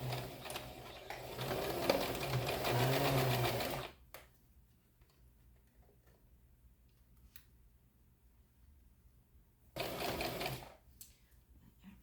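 A home sewing machine stitches fabric pieces for a pair of pants, a close, steady whirring run of about four seconds, a long quiet pause, then a second shorter burst of stitching.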